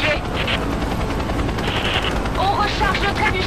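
Rapid gunfire rattles against a helicopter's dense rotor roar in the Rise of the Tomb Raider video game, a loud continuous barrage with no gaps.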